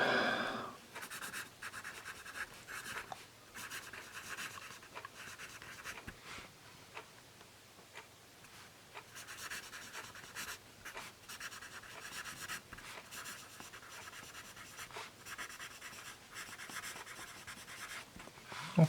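Close, quiet scratching of a vintage Faber-Castell American #2 yellow pencil writing on paper, with irregular strokes and brief pauses repeating for about nineteen seconds.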